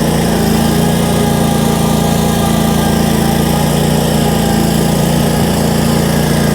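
Kioti ZXS stand-on mower engine running loud and close, a steady unbroken drone with strong low hum and no talk.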